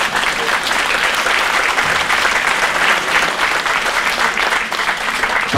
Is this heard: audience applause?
yes